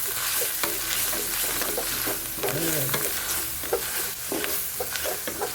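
Garlic, shallots and onions frying in melted butter in a pan, a steady close sizzle with intermittent stirring scrapes and clinks, no voices.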